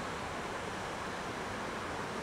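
A garden waterfall at Longwood Gardens gives off a steady, even wash of falling water that stays soft and constant throughout, with no voices over it.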